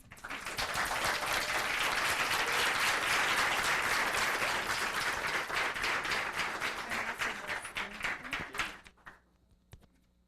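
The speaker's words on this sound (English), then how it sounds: "extra round of applause for presenting in 2 languages" An audience claps after a talk at an online event on community-based biodiversity data, a dense, sustained round of applause that swells, holds steady, then thins out and stops near the end.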